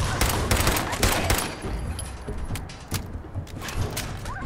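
Gunfire in the PC game Fallout 4 comes as a rapid fusillade of sharp, loud shots, densest at first, then sparser cracks over a steady background.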